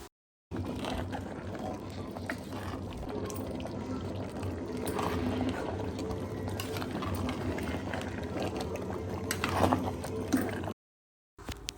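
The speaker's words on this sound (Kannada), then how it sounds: "ಈಗ ಲಿಡ್ ಕ್ಲೋಸ್ ಮಾಡಿ ಒಂದು ಐದು ನಿಮಿಷ ಬೇಯಿಸ್ಕೊಳ್ಳೋಣ" Mutton biryani cooks in a pot under a closed lid, giving a steady close bubbling and watery simmering rumble that holds evenly for about ten seconds.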